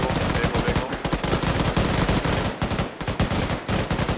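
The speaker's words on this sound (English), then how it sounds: "Machine gun on the vehicle." Machine gun mounted on a vehicle firing in the military shooter Arma 3, a loud continuous rapid burst running nearly the whole time with a couple of brief breaks, dense and close.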